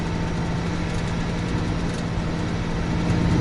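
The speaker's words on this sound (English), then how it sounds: "You just get the monotone engine noise." Monotone truck engine drone from the Alaskan Road Truckers game on PS5, a loud, steady low hum with an unchanging tone throughout and no voices.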